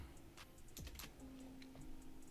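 Numbers are typed on a computer keyboard in a short burst of quick, soft clicks with a few louder key taps, close by and faint, with no talking.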